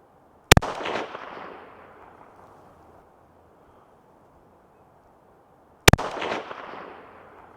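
Two loud, sharp rifle shots several seconds apart while zeroing a thermal scope at about 45 yards, each crack followed by a long rolling echo that fades outdoors.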